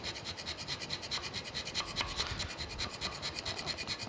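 A hand scraper works the cross head dovetail of a New Haven metal planer, making quiet, rhythmic rasping strokes that repeat in quick succession at close range, with no talking.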